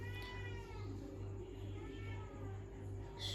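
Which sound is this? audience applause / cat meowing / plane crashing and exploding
cat meowing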